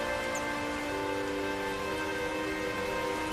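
Steady rain patters down in a cartoon scene, a soft continuous hiss lasting throughout with sustained tonal notes held underneath.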